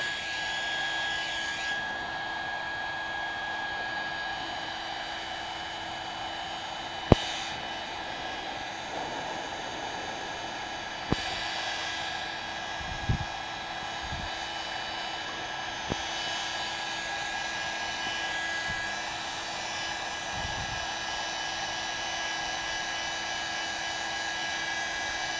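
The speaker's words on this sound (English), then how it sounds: "I'm going to take my heat gun, I believe one last time, and go ahead and dry our moon in place" A heat gun dries acrylic paint on a painted moon of a haunted midnight mansion canvas, giving a steady, loud whooshing blow that runs without a break under a few faint clicks and taps.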